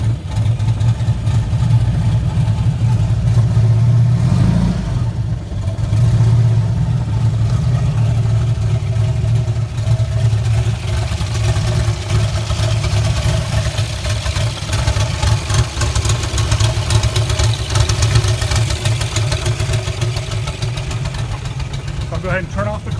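A Volkswagen turbo street-legal buggy engine idles steadily and loudly for a long stretch, a low rumbling drone with a brief rise and dip early on, running cold.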